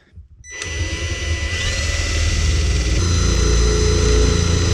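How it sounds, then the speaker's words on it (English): A power drill spins up and grinds steadily, close by and loud, its whine shifting slightly in pitch as it bores through a wall for a thermostat mount. "So I'm going to drill right through here."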